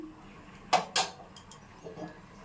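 Jalebi batter of flour and yogurt being mixed in a bowl, giving two sharp utensil clinks against the bowl followed by a few softer scrapes, close and alone with no talk.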